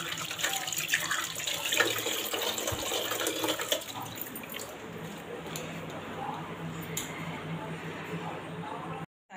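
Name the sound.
water running while washing in a net basket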